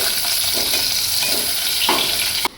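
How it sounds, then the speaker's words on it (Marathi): Onion, bay leaf and garlic fry in hot oil for a home-style mutton curry, a loud, close, continuous sizzle with a few soft stirring scrapes before it drops away at the end. "आपल्याला कांदा घालून घ्यायचा आता हा कांदा लाल होऊ देते"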